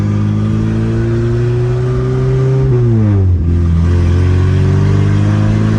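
An Amazon car engine runs steadily and loud, rising in a sustained rev, then dropping briefly before settling back to a strong running note, close up with no talking.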